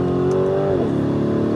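A Lamborghini Urus 2018 SUV engine hums loudly at steady revs, then the pitch shifts and drops as the throttle changes, a close continuous mechanical drone with no voices.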